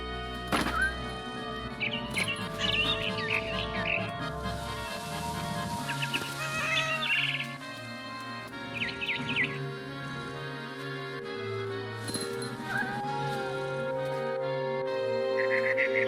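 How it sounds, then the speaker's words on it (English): A frightened bird chirps and calls in the video game What Remains of Edith Finch, bright repeated tweets over a sustained musical score, moderately loud and without talk. "I tried to be quiet, but the bird was really scared."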